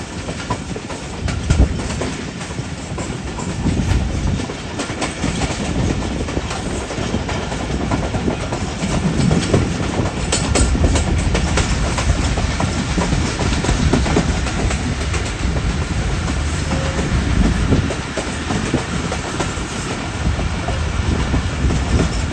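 The Bolan Mail passenger train runs on the rails between Sehwan and Karachi, heard from on board as a loud, steady rumble with rhythmic clickety-clack of wheels over joints throughout, with no talking.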